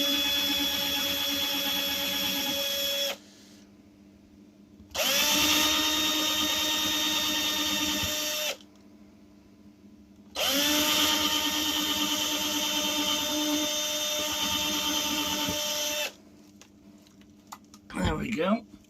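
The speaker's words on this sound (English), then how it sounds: "we'll drill those" A power drill whirs in three bursts of several seconds each with pauses between, close and fairly loud as holes are drilled, followed by a brief clatter.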